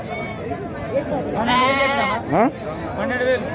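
A goat bleats loudly nearby in a few wavering cries at a weekly Saturday livestock market in Pebbair, with someone talking alongside and some background noise.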